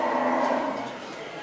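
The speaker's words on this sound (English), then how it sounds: "I just hear cows downstairs." Cattle moo in a long, drawn-out low call from downstairs, loud and sustained before trailing off, with no voices over it.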